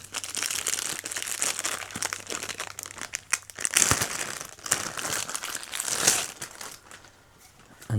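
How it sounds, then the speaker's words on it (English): A plastic bag crinkles and rustles loudly and close as a titanium insulated travel coffee mug is pulled out of it, with bursts of crumpling that fade to quieter handling at the end. "It's in a plastic bag also."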